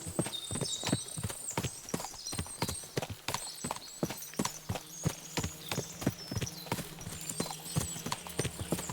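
Steady clip-clop of many horses' hooves walking on a hard surface in the video game Kingdom Come: Deliverance II, a dense, continuous rhythm of overlapping hoofbeats with a faint tonal hum beneath.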